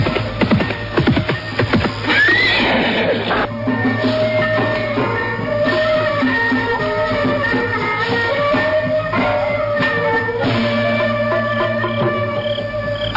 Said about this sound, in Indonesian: mendadak terdengar derap kuda dari kejauhan